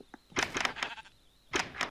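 Sheep bleating in the video game Minecraft, a few short nasal bleats in two bursts, close and fairly loud, with a faint steady tone underneath.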